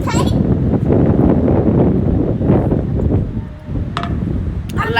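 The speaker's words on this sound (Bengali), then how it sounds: "অনেক বাতাস হচ্ছে" Strong gusts buffet a balcony, a steady roaring rush with bursts of wind noise on the microphone, while people talk close by throughout.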